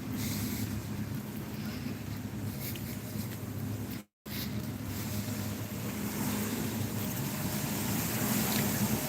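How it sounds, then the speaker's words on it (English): Boat wake water sloshes and laps steadily against a riverbank, with a broad washing rumble and faint wind, briefly cutting out midway. "Now you can hear this water rolling up on the sides of the river"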